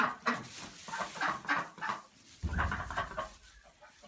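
Chickens clucking inside a dim chicken house, a series of short, soft clucks and squawks in uneven bursts, fairly close but quiet, with no talk.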